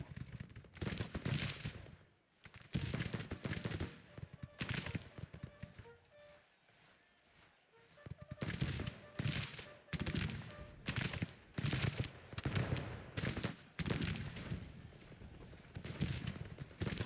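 Musket volleys fired at long range on a Civil War battlefield in Grand Tactician, heard as repeated bursts of crackling rifle fire in uneven waves, with a brief quieter lull in the middle.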